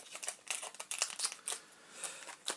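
Close, crisp crinkling and tearing of a taped plastic card pack wrapper in a series of short bursts, with no talking.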